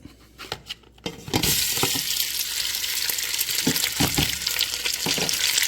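Ground Italian sausage, a pound of it, drops into hot bacon fat and breaks into a loud, steady sizzle that fills the pan after a few soft handling sounds, with occasional stirring scrapes.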